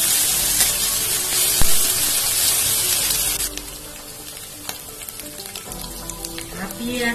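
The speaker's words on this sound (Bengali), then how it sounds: "লঙ্কা কুচো 1 চামচ দিয়ে দিচ্ছি। একটু নাড়াচাড়া করে দিচ্ছি।" Chopped green chillies fry in a pan for a veg burger paratha, a bright loud sizzle that eases as a spoon stirs and scrapes through them, with light clinks near the end.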